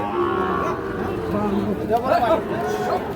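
A Sahiwal bull calf moos in low drawn-out calls over a busy background of chatter and crowd noise at a livestock market.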